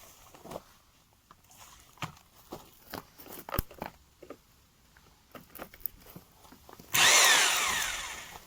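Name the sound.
electric paddle mixer mixing mineral plaster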